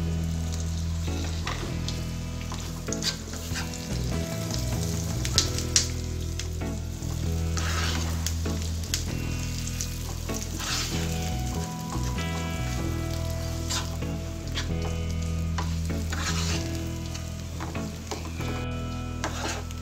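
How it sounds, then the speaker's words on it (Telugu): Tempering frying in hot oil in a pan, then ground mint chutney added and stirred in, giving a steady loud sizzle throughout with scraping stir strokes and no talking. "తాలింపు ఫ్రై అయిన తర్వాత మనం ముందుగా మిక్సీ పట్టిన పచ్చడి వేసుకోవాలి."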